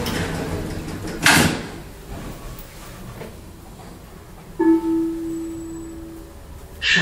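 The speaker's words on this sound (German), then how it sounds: "Tür schließt." Dordel elevator door at a Berlin U-Bahn station sliding shut with a sharp thump, followed by chime tones and a second clunk near the end; no speech.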